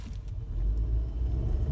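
A 2015 Nissan Altima engine runs smoothly, a steady low rumble heard up close with no voices over it.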